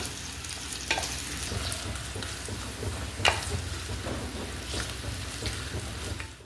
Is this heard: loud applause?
no